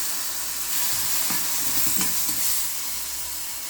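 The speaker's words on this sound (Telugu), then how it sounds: "చిన్న ఉల్లిపాయలు కూడా వేసేసుకోవాలి దీంట్లోనే వేసుకున్నాక వేయించేసుకొని అవి మగ్గుతూ ఉంటాయి" Small onions frying in a pan for a Telangana-style peanut and sesame chutney, a steady close sizzle with a few soft stirring scrapes and no voices.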